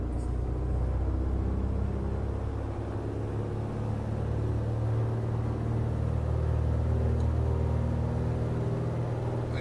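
A Piper Arrow III light aircraft engine runs up on the wheel brakes in a flight simulator game, producing a loud, steady droning hum that holds at constant power throughout with no voices.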